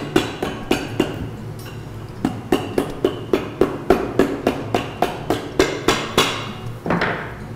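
Sharp hammer blows strike the sole of a Red Wing boot during resoling, repeatedly in a steady rhythm, about two per second, loud and close, with no talking.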